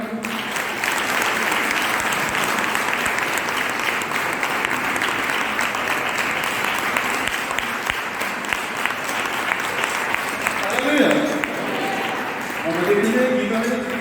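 Sustained applause from a congregation gathered at a church memorial service, dense and steady clapping filling the room for the whole stretch, with voices audible underneath.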